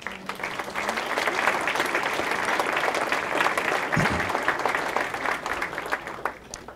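A crowd at a UC Irvine 50th anniversary and Hall of Fame celebration applauds steadily for several seconds, a dense even wash of clapping at moderate distance.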